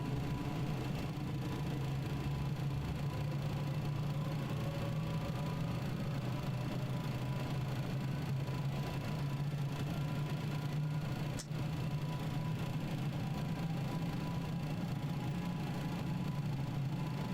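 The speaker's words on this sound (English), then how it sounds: "We have a good engine start." An MD-11 jet engine idles after start in the MSFS flight simulator, a steady low drone and hum that holds level throughout with a faint whine above it.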